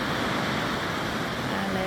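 Surf rolling onto a white sand beach, a continuous even wash of breaking waves at moderate level with no other sounds standing out.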